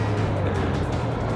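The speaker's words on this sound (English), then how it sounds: "So we just rode a tank." A tank on a ride at a Wargaming.net anniversary party gives a steady, loud low engine rumble with a deep droning hum that holds without pause, close and continuous.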